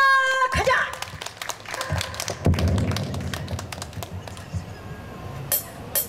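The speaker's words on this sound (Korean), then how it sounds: "자 다시 한번 힘찬 성원의 박수 한번 보내주시면 감사하겠습니다." Crowd clapping for a performer at an outdoor beer festival show, scattered claps and taps under a loud announcer's voice, with sharp thuds near the start.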